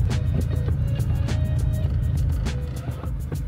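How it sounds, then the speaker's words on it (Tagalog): A manual-transmission car on a level road stalls as the clutch is released in first gear with no throttle, its engine rumble loud and steady, then faltering near the end, with no talk over it. "Ayan, namatayan, di ba?"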